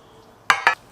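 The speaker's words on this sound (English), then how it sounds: "Now I'm going to transfer this batter into these mini loaf pans." Two quick metallic clinks sound close together as batter is moved into mini loaf pans, sharp knocks of a utensil against the pans after a quiet moment.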